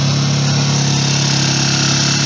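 A Pramac PMi 2000 inverter generator engine runs steadily and loud after being started with its pull starter, giving a constant close droning hum with no pauses throughout.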